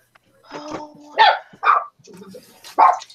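A pet dog barks indoors in a handful of separate loud, sharp barks with short pauses between them, close to the microphone, with some voice sounds mixed in.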